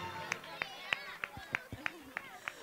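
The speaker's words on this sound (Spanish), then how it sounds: "Fuerte el aplauso, claro que sí" A handful of sharp, evenly spaced claps, about eight in under three seconds, sound close and fairly quiet, like one or two people clapping slowly for a performer rather than a full audience.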